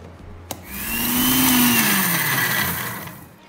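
An electric mixer grinder whirs up as it blends mint with pomegranate seeds, black pepper and cumin, starting with a click, then a loud steady motor whine that rises and slowly winds down, close by.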